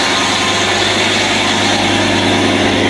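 A truck engine idles loud and close just after start-up, a steady rumble with a throbbing low-end pulse and no voices.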